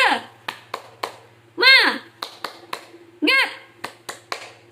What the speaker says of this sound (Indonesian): mari kita tepuk semangat terlebih dahulu